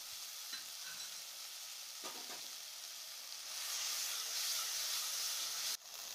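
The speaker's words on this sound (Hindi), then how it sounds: "प्याज भून जाने के बाद हमने जो अदरक, लहसुन, प्याज, टमाटर का पेस्ट बना के रखे थे उसको डालेंगे" Onions frying in a pan with a ginger, garlic, onion and tomato paste stirred in for a paneer curry, giving a steady close sizzle and hiss that swells louder partway through, with brief stirring clatters and no talk.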